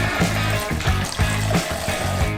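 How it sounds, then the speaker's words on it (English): Cherry juice pours into a measuring cup in a steady, close trickle, with soft gurgling pulses repeating through the short pour. "Pour it into a measuring cup."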